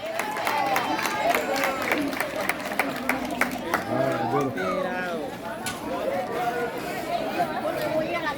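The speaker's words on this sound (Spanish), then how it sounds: "Damas y caballeros, por favor, un aplauso para esta nueva generación." Crowd chatter and scattered clapping from an audience at a children's coronation ceremony, a steady murmur of voices with brief bursts of applause rather than a sustained ovation.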